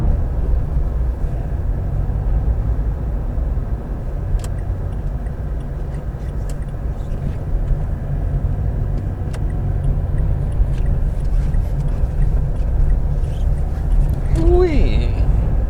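A car on the winding NC500 road in the Scottish Highlands, a steady low engine and road rumble from inside the cabin with faint ticks over it, and a brief rise in pitch near the end as the gear changes.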